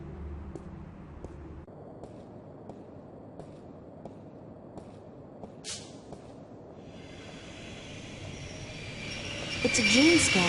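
Metro train at a station in the video game The Longest Journey: a low rolling rumble with rhythmic clicks, rising at the end into a loud screech of wheels and brakes.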